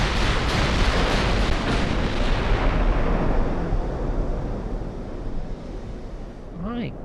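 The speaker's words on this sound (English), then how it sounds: "Main gun fire." A battleship's main guns fire in Ultimate Admiral: Dreadnoughts, a huge, close boom that rolls on in a long rumbling decay before a voice briefly speaks at the end.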